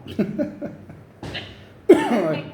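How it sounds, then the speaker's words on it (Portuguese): A few rough coughs close to the mic, with brief pauses between bursts and no other sound. "Eu tô tossindo aqui"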